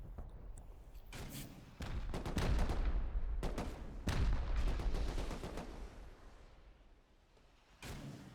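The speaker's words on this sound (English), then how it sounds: "If you hear any of the sort of scuff sounding rockets as well, that is the Year of the Dragon rocket launcher." Repeated explosive booms and thumps from Year of the Dragon firework-style rocket launcher rockets in the game Rust during a 7v7 tournament base raid, several heavy blasts in clusters with rumbling tails, fairly distant and layered.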